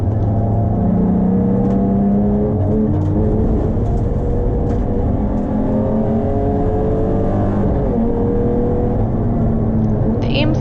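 Several circuit race cars run close together at Taupo, with an MG holding up a BMW M3 and a Volvo. Their engines drone loudly and continuously, overlapping notes rising and falling as they jostle through corners.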